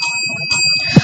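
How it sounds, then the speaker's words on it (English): Bell struck to mark the timing of a hackathon pitching session, giving a bright, sustained metallic ring that dominates the room, with a soft knock near the end. "we will hit the bell 3 times"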